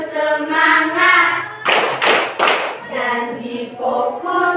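Children in a classroom do a rhythmic spirit clap, with a few loud, quick bursts of clapping breaking up sustained sung chanting from their voices.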